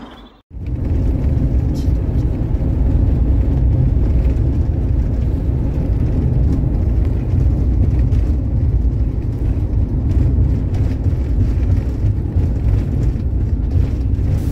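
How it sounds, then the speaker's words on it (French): Cars passing on a nearby road at night make a constant loud low rumble and roar that runs almost unbroken after a brief quiet start. "les voitures passent, et c'est plutôt bruyant"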